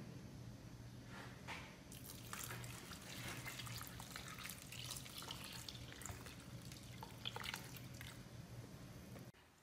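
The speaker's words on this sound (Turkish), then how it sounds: "En sonunda da suyumu ekliyorum." Water poured into a pot of papermaking ingredients with washing soda, a continuous splashing, gurgling stream that runs steadily for several seconds before stopping abruptly.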